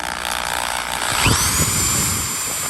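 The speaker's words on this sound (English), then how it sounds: "we're going to drill right there" Close, loud whine of a power drill boring a hole in a car engine-bay part, its pitch rising as it spins up and then holding while it bores.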